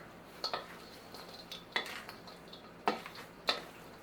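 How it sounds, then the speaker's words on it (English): Spoon stirring a cooked bread stuffing mixture in a bowl for Grandma's Thanksgiving stuffing, a few quiet scraping and clinking strokes at irregular intervals, close and faint, with no talking. "take your mixture that you cooked up, throw it in the pan, in the bowl rather, give it a quick stir"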